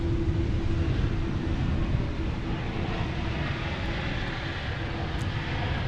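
A KLM airliner passing close at Portland International Airport, a loud, steady broadband jet roar holding level throughout with no voices.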